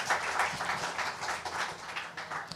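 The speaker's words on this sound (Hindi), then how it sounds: "इसलिए जोरदार ताली बजाइए सब लोगों के लिए" An audience at a political event stage claps steadily, a dense, even wash of applause that goes on throughout at moderate loudness.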